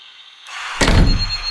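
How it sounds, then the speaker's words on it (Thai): A single heavy door slam, loud and booming, after a rising hiss, with a lingering low rumble. "เสียงเปิดปิดประตูที่ดังปึงปังเอง"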